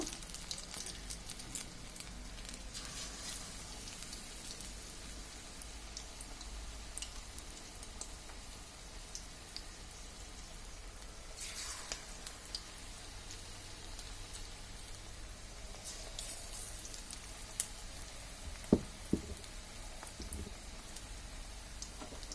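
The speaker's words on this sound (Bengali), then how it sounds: "একে একে সবগুলো ক্যাপসিকাম আমরা এইভাবে দিয়ে ভেজে নেব।" Capsicum pakoras deep-frying in oil give a steady fine crackling hiss, like light rain, continuous and fairly quiet with a few brief clicks and knocks, no talk.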